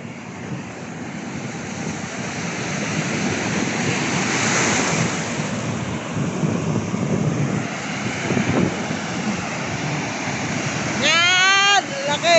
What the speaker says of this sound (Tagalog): Laki ng alon yan, oh!